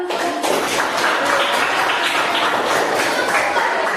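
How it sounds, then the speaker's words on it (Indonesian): Classroom of eighth-grade students applauding together, a steady dense wash of many hands clapping that fills the whole stretch at even loudness with no one speaking. "Beri tepuk tangan."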